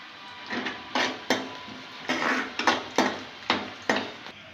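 Onions and tempering spices frying in a pan for upma, with curry leaves tossed in, give a series of about eight sharp clattering bursts of spoon and pan contact over a steady sizzle, close and fairly loud.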